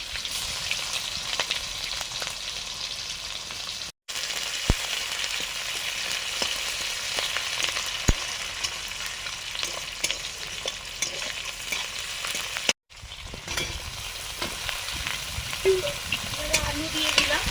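Chopped onion frying in mustard oil with potato, eggplant and spices, a dense continuous sizzle with crackling pops and periodic stirring scrapes, briefly cut off twice before resuming loudly.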